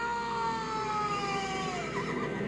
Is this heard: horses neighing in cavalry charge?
yes